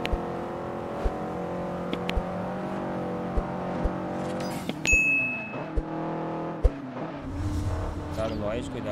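A race car in Forza Horizon, a Lamborghini Diablo in this session, revs with a steady, droning engine tone that climbs and shifts as it powers through a curve, with brief clicks and a short tonal blip mid-run, loud and continuous.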